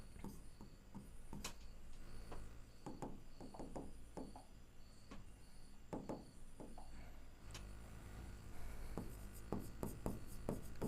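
A teacher writes on a board in a classroom, with a series of short taps and scratchy strokes in bursts against a quiet, faintly humming room; no voices.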